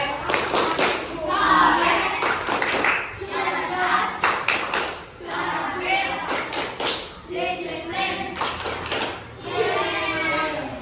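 A school class performs the Tepuk SDIT clapping chant, rhythmic bursts of group hand claps alternating with children's chanted voices, loud and close in a classroom.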